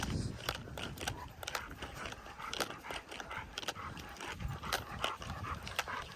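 A German Shepherd named Cruz pants in quick, rhythmic breaths close by during a recall session with several dogs, accompanied by scattered shuffling and footfall noises.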